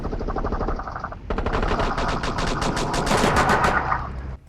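Rapid automatic gunfire from a shooter video game rattles loud and close in sustained bursts, the fire intensifying after a brief opening volley with no talk over it.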